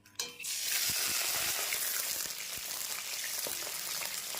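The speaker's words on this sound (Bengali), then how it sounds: "তেল গরম হয়ে গেছে কয়েকটা চিংড়ি মাছ দিয়ে দিচ্ছি" Shrimp drop into hot oil in a wok and fry with a loud, steady sizzle and crackle, close up, with a few light stirring clicks and no talking.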